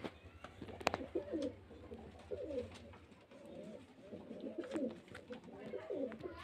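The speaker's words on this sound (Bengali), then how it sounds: "দুটো হলুদ চোখের পায়রা।" Yellow-eyed pigeons kept for sale at a house in Beldanga coo in repeated soft, throaty rolling phrases close by, with faint clicks and background noise between the calls.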